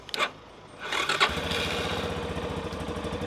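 A brief starter crank, then a 2014 Yamaha Tricker XG250 fuel-injected motorcycle engine catches and settles into a steady, fast idle rumble close by.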